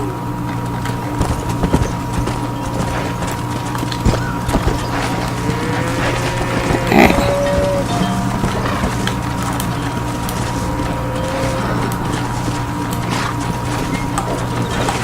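Steady clip-clop of horse hooves trotting in the video game Red Dead Redemption, continuous and moderately loud, over a constant background hum with faint game-like effects.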